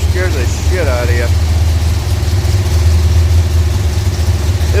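Pontiac 421 Tripower V8 idles steadily in a pump-gas engine build, a deep continuous low rumble that stays even throughout, with a brief voice rising over it early on.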